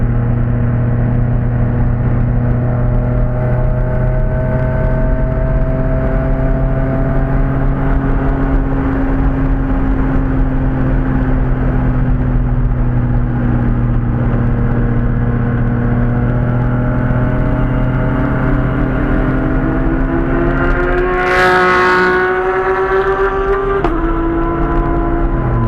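A BMW M3 E36 Lightweight cruises at an easy, steady pace around a track at Thermal Club, its engine droning loud and close with a constant hum and a brief change in pitch near the end.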